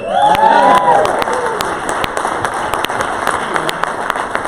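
Applause and cheering from a crowd at a real estate team awards summit, with broadband clapping throughout and a few shouts near the start, moderately loud, and a voice talking over it at first.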